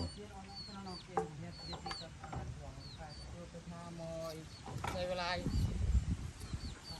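Chickens cluck and a rooster calls in a rural Lao or Thai yard, several short bird calls scattered over steady outdoor background while people talk nearby.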